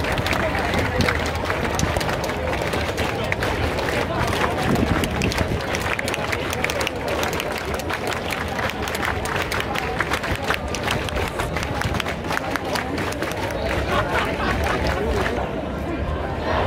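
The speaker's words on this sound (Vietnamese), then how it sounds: "người ta chỉ có vỗ tay để biểu hiện cái tình cảm và cái tinh thần đoàn kết với nhân dân thế giới" A large crowd at an anti-racism protest in Berlin claps steadily for the whole stretch, a dense patter of many hands mixed with crowd murmur and voices.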